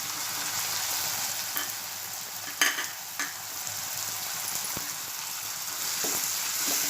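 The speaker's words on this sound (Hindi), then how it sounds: "मैं इसे प्याज और टमाटर के साथ तेल में थोड़ा टाइम तक भूनूंगी" Dried kad (ambad) fries in oil with onion and tomato in a pan, giving a steady, close sizzle broken by a few sharp clinks and scrapes of stirring.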